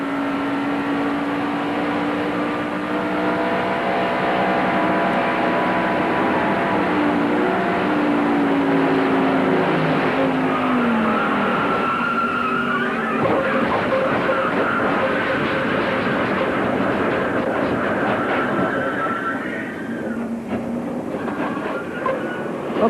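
Stock cars racing in the 1994 NASCAR Winston Cup Coca-Cola 600 at Charlotte Motor Speedway, a loud continuous roar of engines whose pitch sweeps downward as cars pass close by, with no talking.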